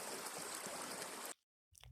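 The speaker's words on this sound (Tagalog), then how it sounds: "Mini talon." A small waterfall and stream spill over rocks at a campsite in Tanay, Rizal, a close, dense rushing hiss that cuts off abruptly into silence before a brief low rumble returns.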